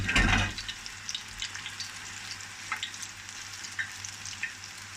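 Eggplant frying in sunflower oil in a pan, a steady close sizzle with faint crackles and a brief louder stir at the start, no talk.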